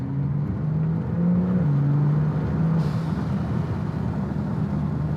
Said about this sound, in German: hat das Ding Blow-Offs am Start oder was?